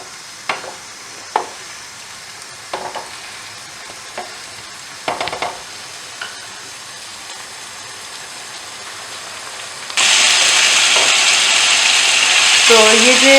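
Small potatoes frying in a pan for a spicy aloo bhuna masala, with a steady close sizzle punctuated by scraping stirs and clinks, then swelling into a loud, dense hiss of frying in the final seconds.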